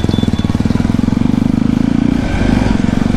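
A motorcycle with an aftermarket exhaust idles loudly and close with a throaty, rapid popping exhaust note, then revs up slightly toward the end.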